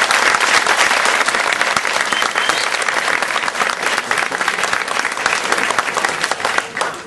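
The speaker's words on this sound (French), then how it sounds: "je crois que vous devez l'applaudir." An audience claps loudly and steadily for a guitarist at a 2008 event, a dense, continuous wash of applause that runs the whole length with little variation.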